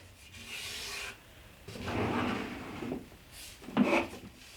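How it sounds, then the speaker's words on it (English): Hand sanding on wood for a dresser build comes in distinct rasping bursts, a short stroke, a longer steady rub, then a brief sharper scrape, close and clear with no talk. "Just got to give it a sand."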